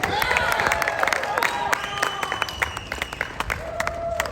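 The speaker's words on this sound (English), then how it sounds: "I want to thank the organizers of this rally. Can we give them another round of applause?" Outdoor political rally crowd in California applauding and cheering for the organizers, dense claps mixed with shouts and whistles, loud and close, with scattered voices over the noise.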